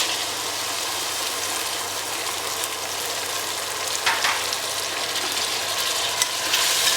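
Garlic ginger paste and tomato puree frying in a pan for Kadaknath chicken curry, a continuous close hiss and sizzle with occasional stirring scrapes, no speech.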